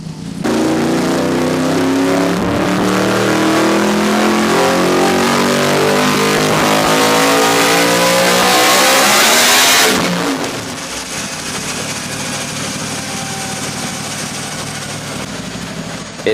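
Yamaha R1M sport motorcycle fitted with a titanium exhaust revs hard, a loud, close, rising engine howl that climbs in pitch for about ten seconds before dropping back to a steady, rumbling idle.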